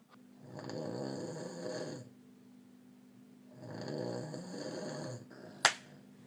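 Two long, deep snores with a pause between them, fairly close and steady, followed by a single sharp click near the end.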